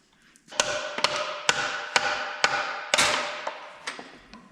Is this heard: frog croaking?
no